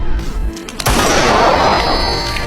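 A single loud gunshot cracks in a film scene, followed by a dense, sustained roar and rumble that fills the space with no speech.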